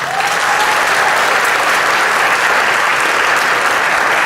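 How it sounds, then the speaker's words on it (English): A debate audience applauds a final-round winner with steady, loud, dense clapping that holds evenly for a few seconds, with no voices standing out. "please give a round of applause to our winner"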